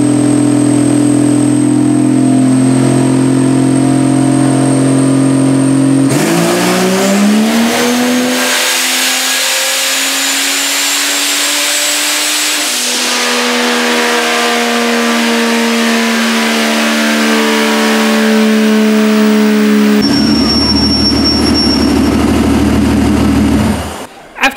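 A loud turbocharged Vortec 4200 engine on a dyno climbs steadily in pitch through a sustained full-throttle pull, droning and whining at high volume before dropping back to a lower idle.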